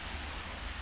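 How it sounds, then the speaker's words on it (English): Steady rain falls over a lake edge lined with reeds under a dark sky, a brief, even wash of soft hiss with no other sounds. "There's some brown reeds in the dark sky and the rain dropping down."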